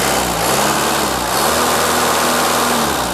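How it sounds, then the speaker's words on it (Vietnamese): Engine of a Toyota 1.5-ton forklift runs loud and close, with a steady mechanical drone and rough low rumble, rising slightly in pitch as it is revved, with no speech over it. "Đây tôi sẽ ga lên một chút cho các bạn xem."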